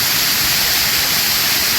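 Small waterfall at Neyyar Dam in Kerala, a steady, loud broadband rush of falling water filling the whole stretch with no voices.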